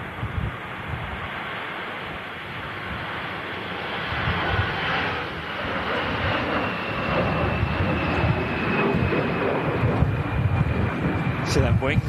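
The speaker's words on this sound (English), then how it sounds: "Next arrival, KLM. That was on the approach, just gone around." A KLM airliner going around on approach in a storm, a steady broad engine roar mixed with gusting wind buffeting the microphone, swelling slightly louder over the span with no talk.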